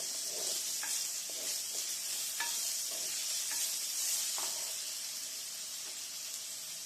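Onions sizzle in hot oil in a pan for a sardine curry while a spoon stirs them, scraping strokes repeating every second or so over a constant close frying hiss, no speech.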